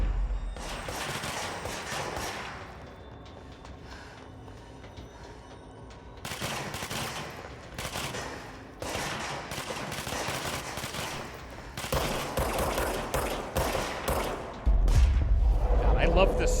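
Rapid video game gunfire, bursts of shots in loud clusters with short pauses, followed by a heavy low thump near the end, with a voice talking over parts of it.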